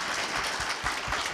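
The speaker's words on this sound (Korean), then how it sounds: "여러분들 박수 좀 쳐드렸습니까" Brief, continuous applause from an audience at a Korea University labour culture awards ceremony and graduate school evening, a dense wash of clapping with no clear gaps.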